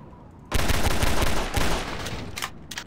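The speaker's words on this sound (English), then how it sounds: "Is somebody shooting me?" Loud, close burst of rapid gunfire in the video game Entropy Zero, a dense volley lasting about a second before fading into scattered, quieter shots.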